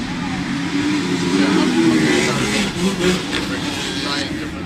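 Motocross dirt bikes rev and accelerate together off the start of a 40+ Intermediate moto at Woodland MX, a loud mid-range engine roar that rises and swells across the clip while people talk over it.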